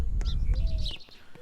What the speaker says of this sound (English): Might turn that sparrow down just a little bit.